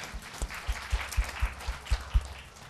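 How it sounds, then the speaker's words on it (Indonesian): A church congregation applauding in a steady rhythm, a series of evenly spaced claps with a low thump on each beat, moderately loud, with no speech over it. "Kita berikan tepuk tangan paling meriah buat Tuhan kita."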